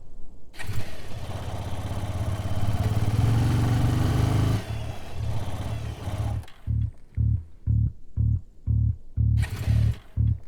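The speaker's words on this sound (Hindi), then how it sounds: "पेट्रोल तो है, फिर भी बाइक बंद हो गई।" A motorcycle engine sputters to life and runs roughly for several seconds, cuts out, then coughs in a string of short, evenly spaced revving bursts as it stalls repeatedly, loud and close with no voices.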